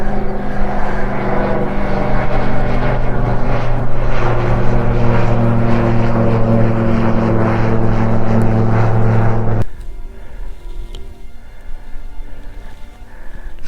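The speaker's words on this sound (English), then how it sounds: "I thought the whole point of gliders was that they were supposed to be quiet, but these things are bloody noisy" Powered glider aircraft overhead on an outdoor walk in Northumberland, a loud continuous engine drone that holds steady and then drops away abruptly to quieter outdoor ambience, no talking.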